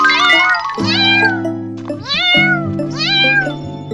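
Cartoon kittens give three bursts of high, bending meows, loud and close, over a steady sustained tone.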